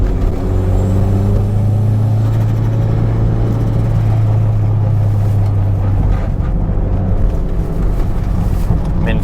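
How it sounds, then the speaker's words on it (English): A Toyota MR2 Turbo fitted with an E153 limited-slip differential drives a mountain road, its engine giving a loud, close, steady drone that holds throughout with a slight shift in pitch. "That was a really much smoother, easy downshift."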